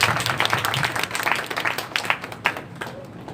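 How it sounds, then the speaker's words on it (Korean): A church congregation applauding, dense broadband clapping from many hands that stays steady for a few seconds and thins out toward the end. "하나님께 영광의 박수를 드립시다"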